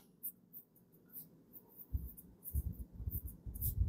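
A pen or pencil scratches across paper in short strokes and taps, close and fairly soft, growing busier toward the end.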